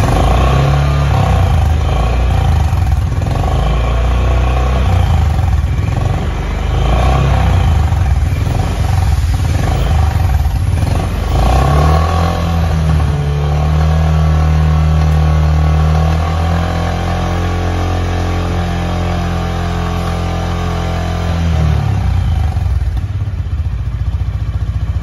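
A Honda H'ness CB350 motorcycle engine runs steadily close by with a deep, even idle, its pitch rising and holding during a brief rev in the middle before settling back, along with faint mechanical clatter.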